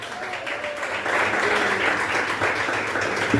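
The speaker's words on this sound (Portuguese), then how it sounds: "Palmas e glória a Deus" Worshippers at a church service clap together, a dense steady round of applause that swells slightly after the first second and carries on with faint voices mixed in.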